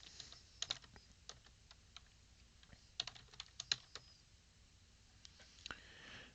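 A Linux command is typed on a computer keyboard: scattered, close key clicks with brief pauses and a few harder strokes, standing alone against a quiet background.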